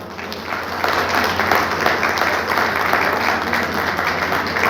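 Loud, sustained applause from an audience at a JCI Gohana Star zone chairman oath ceremony, a dense steady wash of clapping that holds strong throughout without speech.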